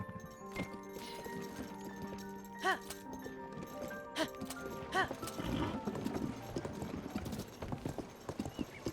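Horse hooves clip-clop steadily on the ground in Zelda: Tears of the Kingdom, under game music with occasional brighter chimes, moderately quiet.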